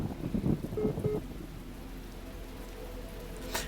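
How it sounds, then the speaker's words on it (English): Steady rain hiss with low rumbling thunder in The Talos Principle video game, a continuous wash of rainfall with a soft rolling rumble underneath and a brief brighter burst near the end. "the very next level, it's raining, there's thunder."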